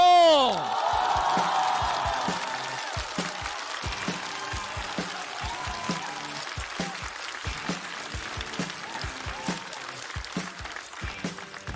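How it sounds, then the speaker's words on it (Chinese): A stand-up comedy audience breaks into applause and cheering to welcome the next comedian, loud at first, then thinning into scattered clapping and a few whoops over the rest. "我们掌声有请"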